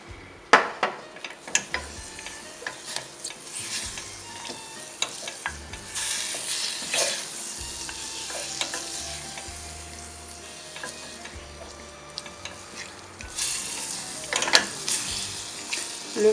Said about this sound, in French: portez votre chocolat dans une casserole